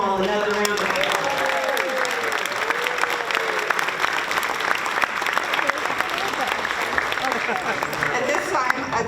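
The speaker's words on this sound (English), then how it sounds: "Please give them all another round of applause." An audience at a community awards banquet applauds steadily for about nine seconds, a dense, even roar of clapping with crowd voices mixed in.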